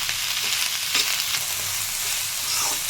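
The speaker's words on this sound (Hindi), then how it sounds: "साथ जाएगा गाजर, शिमला मिर्च और पत्ता गोभी। भूनेंगे अच्छी तरह से। हाई फ्लेम पर बनाएंगे।" Carrots, capsicum and cabbage stir-fry over a high flame for street-style veg Hakka noodles. The sizzle is steady and close, with scraping stir strokes and crackles throughout and no voices.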